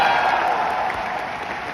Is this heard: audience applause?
yes